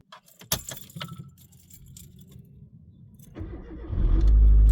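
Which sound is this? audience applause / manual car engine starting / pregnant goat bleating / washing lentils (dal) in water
manual car engine starting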